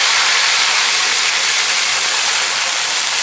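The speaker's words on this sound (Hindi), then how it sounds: "पहले हम इसमें डालेंगे ये तड़का" Hot tadka tempering hits thick kunna gosht gravy with a loud, continuous sizzle, a close, bright hiss that holds steady without pause.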